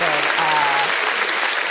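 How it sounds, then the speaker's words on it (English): Studio audience applause at a comedy talk show, a steady wash of clapping held at even loudness for under two seconds, with a low tonal hum running beneath it. "round of applause for that."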